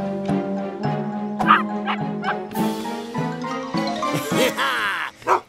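Cartoon dogs bark, yip and whimper in a rapid string of bright, close calls during a race, with a faint jingle near the end.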